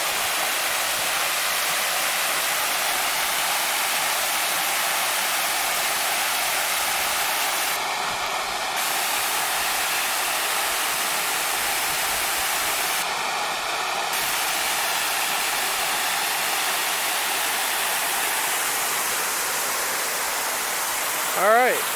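Pristine Falls on the Fall Creek Falls trail pours in a steady, loud, broadband roar that stays constant throughout, close by, with no breaks and no speech over it.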